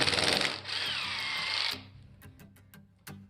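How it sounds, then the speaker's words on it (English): Power drill boring a pilot hole into 1-inch PVC pipe, a loud steady whine for over a second that cuts off, followed by a few short clicks and taps. "Even with the bigger stuff, it's better if you drill a pilot hole."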